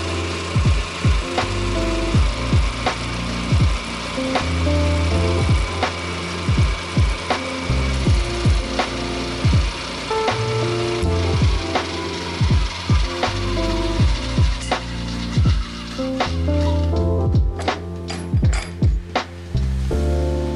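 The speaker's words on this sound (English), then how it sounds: "Next up, I'll carve a slot in each inner frame member." Rhythmic scraping and rasping of a hand tool carving a slot in a small wooden door frame member for a model house's sliding glass door, repeated close strokes with brief pauses, loud and alone.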